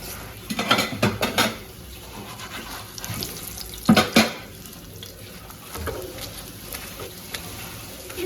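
While parathas are being cooked, tap water pours into a kitchen sink in bursts, along with clattering pots, dishes and cutlery nearby. No one speaks.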